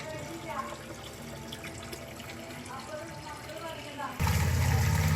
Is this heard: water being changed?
yes